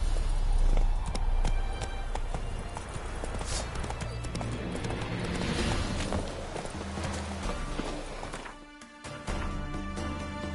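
Horse hooves gallop at a steady, rapid beat in The Witcher 3, with thumping footfalls under a loud, busy game soundscape and a brief dip near the end.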